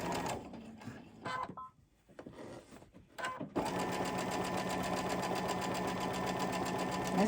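A domestic sewing machine stitches quilt fabric, first in short, hesitant bursts with pauses and handling noise, then running in one steady, close, whirring stretch of rapid stitches.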